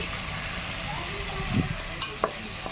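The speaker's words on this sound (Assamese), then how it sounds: "মাছখিনিত 5 মিনিট সময় ভাজি ল'ম।" Small fish cook in a pan with turmeric, cumin and chilli powder, giving a steady close sizzle broken by a couple of clinks as a spoon stirs.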